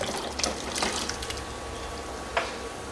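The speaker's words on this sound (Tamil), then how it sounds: "மாங்காய் பருப்பு அந்த எலும்பு மட்டன் போட்டு வேக வச்சது அந்த கலவையை இதில் ஊற்ற போகிறோம்" A cooked mixture of mutton bones, raw mango and dal is poured into a pan of dalcha tempering, giving a steady wet rush with a few soft splashy bursts and no voices.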